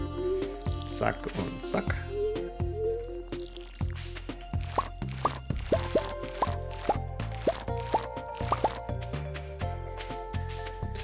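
Crops being watered with a watering can in Stardew Valley, a series of repeated plopping, dripping game sound effects under soft background music, with a person talking briefly over them.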